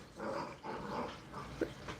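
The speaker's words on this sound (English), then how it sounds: "Dogs done lost their mind." Excited pet dogs growl and bark indoors, a rough continuous rumble of play-growls with a short sharp yip near the end, close and fairly loud.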